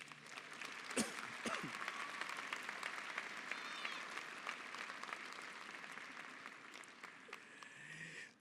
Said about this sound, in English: Castro again a round of applause.